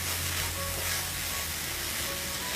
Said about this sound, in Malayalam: ഇനി പൊടിയുടെ പച്ചമണം മാറിക്കിട്ടുന്നവരെ ഒന്ന് ഇളക്കി കൊടുക്കാം.